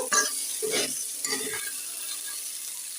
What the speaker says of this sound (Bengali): এখানে ছোট আলু ভাজি করছি